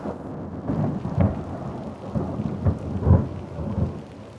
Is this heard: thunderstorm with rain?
yes